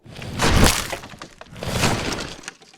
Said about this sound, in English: you can hear the shattering of wood as the guardrail from the upstairs terrace kind of just breaks